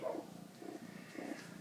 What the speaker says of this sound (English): You touch her, she purrs.